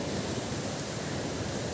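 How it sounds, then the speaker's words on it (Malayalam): Rough sea surges onto the shore at Ponnani during a coastal sea incursion, making a steady, fairly faint broadband roar with no break and no voices. "കടൽ നല്ല ഇരുന്തി കയറുന്നുണ്ട്."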